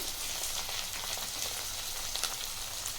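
Soaked peas frying in a pan with oil give a steady, dense crackle that stays loud and even throughout, with scattered sharper pops and nothing else over it.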